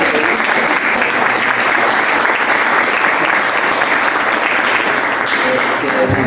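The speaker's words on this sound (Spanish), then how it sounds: "darle un aplauso a Sil" Loud, sustained applause from an audience, dense clapping filling the whole clip at an even level.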